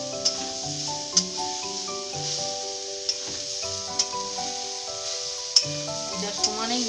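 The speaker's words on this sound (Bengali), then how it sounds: "দেখুন দিয়ে আমি এবারে ভালো করে এটা নাড়তে থাকবো।" Sugar stirred into a coconut mixture in a pan for narkel naru, a steady sizzle running underneath with sharp spoon scrapes and taps at intervals, while soft background music plays throughout.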